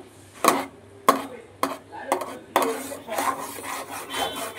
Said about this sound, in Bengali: এইবার অনেকক্ষণ ধরে ভালোভাবে নেড়ে নিতে হবে।